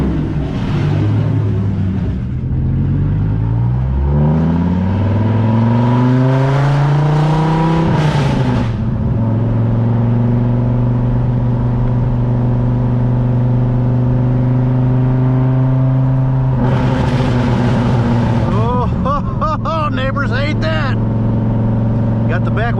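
Dodge Viper engine on a road test drive with the back window removed: a loud, near exhaust drone that climbs through two revving pulls, then settles into a steady cruising hum, with occasional talk over it.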